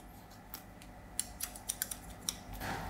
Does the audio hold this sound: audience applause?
no